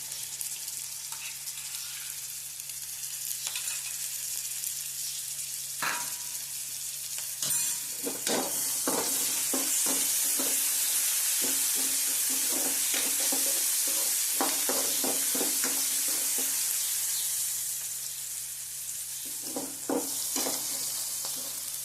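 Chili and garlic paste sizzling in hot oil in a pan for a Gujarati kantola curry, starting as a soft hiss and swelling into loud, busy crackling with repeated stirring scrapes and spatters, then easing slightly.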